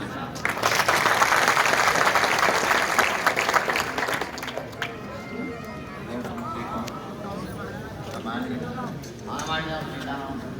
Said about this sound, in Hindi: बच्चियों को ताली